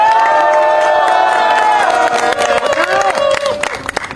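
Crowd at a student declaration event outside an arts university greets a graduate speaker with loud applause, cheers and whoops, dense and close at first, thinning into scattered claps near the end.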